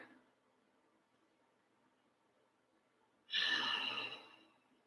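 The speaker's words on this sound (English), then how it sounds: "let's take one deep breath together." A long, deep breath exhaled at the close of a yoga session: a soft, breathy rush rises suddenly near the end and fades over about a second and a half after near silence.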